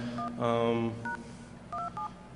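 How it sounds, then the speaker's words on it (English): DTMF dialing tones from a soft phone on a conference call, a handful of short separate beeps at uneven spacing, one longer buzzy tone near the start, against a faint steady hum. "I'm going to ping a computer using just DTMF tones."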